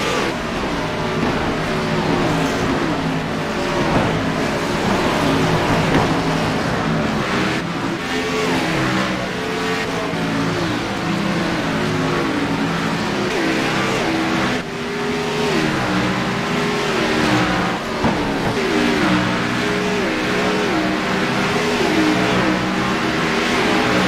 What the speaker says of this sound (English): let's just listen to these cars going around Thunder Canyon